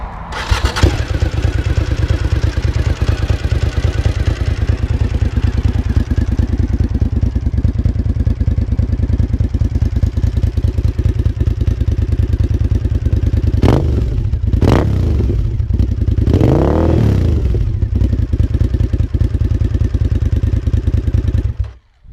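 A 1998 Suzuki TL1000S motorcycle engine runs loudly up close, holding a steady rumbling idle before several sharp throttle blips rise and fall near the end, then cutting off abruptly.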